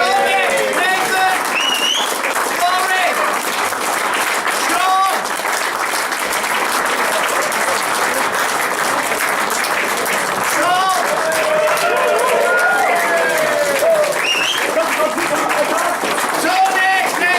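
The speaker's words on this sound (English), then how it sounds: "I would actually like to ask the staff down and get a little bit of applause" Sustained audience applause at the 2014 World Billiards Championship prize ceremony as staff are called down, continuous dense clapping throughout with someone shouting names over it.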